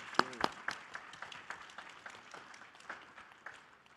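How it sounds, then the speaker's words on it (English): Scattered applause from an audience at an evening science outreach event, starting with a few sharp claps and a whistle, then thinning into lighter, sparse clapping that fades. "I really would like to give a round of applause for all of you in the audience"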